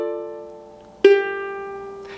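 A ukulele plays bar 3 of a song with a partial barre, an open G left ringing as the melody note. A sustained chord fades, then a second clear pluck rings out, close and alone.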